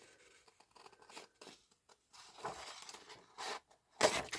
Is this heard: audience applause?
no